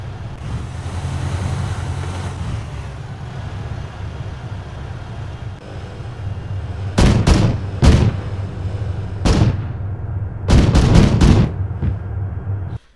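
A 35mm anti-aircraft autocannon on an IFV-6a Cheetah in Arma 3 fires high-explosive rounds in several short, sharp bursts, loud and punchy over a steady low engine rumble.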